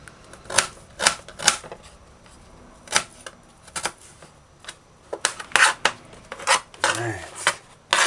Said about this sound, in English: Just dice this fine.